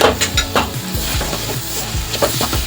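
Boiled potatoes being stirred into onions frying in a pan for masala dosa filling, a steady sizzle with repeated scraping stir strokes, close and fairly loud with no talking.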